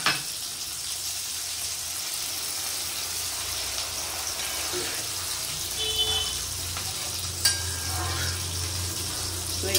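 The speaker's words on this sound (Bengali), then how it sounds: "এই এই কাপে জল নিয়েছি, চাল নিয়েছিলাম এক কাপ, তিন কাপ জল দিচ্ছি।" Steady sizzling of rice frying in a pan as water is poured in, a continuous hiss and bubbling that holds level throughout, with a couple of faint clinks.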